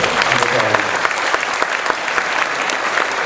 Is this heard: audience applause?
yes